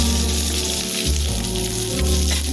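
Onion sliced into a little oil with a pinch of fennel seeds, frying in a pan with a steady, dense sizzle and crackle that holds evenly throughout, close and fairly loud.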